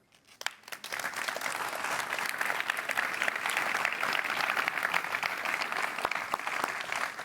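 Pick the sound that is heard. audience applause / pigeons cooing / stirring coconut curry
audience applause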